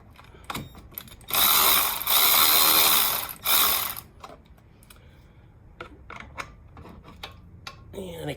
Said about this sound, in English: I'm using my little impact socket just to speed up the process